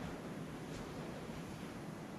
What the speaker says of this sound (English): A lot of weather sound too, which is worrying.